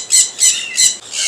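A sun conure parrot gives four sharp, shrill squawks in quick, fairly even succession, loud and close.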